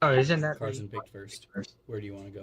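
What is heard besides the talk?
No everyday noise stands out behind the speech.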